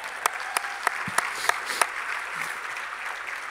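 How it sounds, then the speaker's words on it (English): Audience applause at the 2017 USA Gymnastics Hall of Fame induction ceremony, a steady moderate wash of clapping with a few sharper individual claps standing out near the start, continuing evenly throughout. "A big round of applause for all of them."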